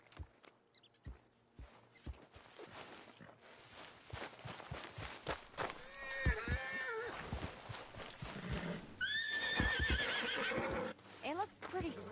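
A spooked horse in the video game Red Dead Redemption 2 whinnies and neighs in several loud, wavering calls amid hoof clops and footsteps, with someone speaking in between.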